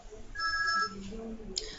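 A mobile phone rings faintly during a classroom session, a short electronic tone sounding briefly in a quiet room with a little background talk.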